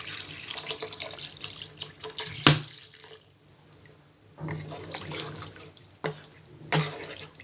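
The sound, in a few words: pouring water into pan to cook shol fish curry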